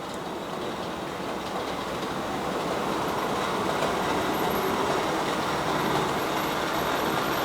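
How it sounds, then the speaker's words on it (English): A train rumbling along, its steady broadband roar building slightly as it draws nearer, with a faint high whine over the noise. "the other train comes, which I can hear rapidly approaching"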